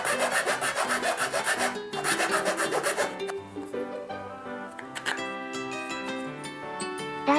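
A wooden dowel-hole jig piece is sawn and then sanded by hand, with rapid repeated rasping strokes first and then slower, softer rubbing close to the mic.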